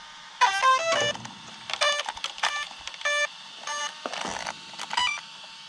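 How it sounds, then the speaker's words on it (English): Electronic tones from an Arrma Outcast V2 4S RC car after a revised part install, a run of several short, clear beeps in separate bursts, close and fairly loud with no talking. "I think that was 4 beeps."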